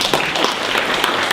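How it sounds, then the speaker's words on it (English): An audience at a talk applauding, a dense, steady patter of many hands clapping for a short burst. "let's give Hubert a big round of applause"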